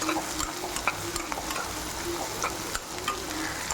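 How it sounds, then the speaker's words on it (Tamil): Brinjal sautéing in hot oil in a pan, a continuous sizzle and crackle with spoon stirring and occasional light scraping taps throughout. "எண்ணெயிலே வெந்துடணும் பாதி வேக்காடு. பாருங்க, நல்லா வதக்கிட்டு பாருங்க."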